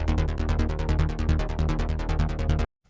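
A dry hard techno synth bass with no saturation pulses in a fast, steady run of about twenty-five dense, punchy hits alongside a driving kick, loud and upfront, cutting off abruptly near the end.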